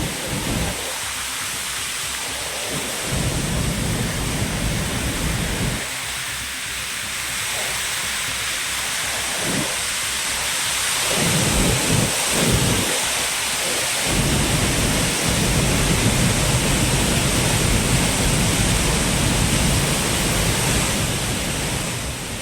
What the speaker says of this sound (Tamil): குற்றால அருவிகளில் வெள்ளம் ஆர்ப்பரித்து கொட்டுகிறது.